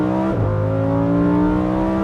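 A Lamborghini Huracan Sterrato's engine revs loudly and close, its pitch sliding down then holding a steady, rich harmonic drone, with no talking over it.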